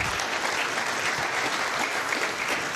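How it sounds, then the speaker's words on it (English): An audience at a film festival claps for the Film Aid staff, a steady, dense burst of applause from many hands, fairly close and uninterrupted. "Let's clap for them."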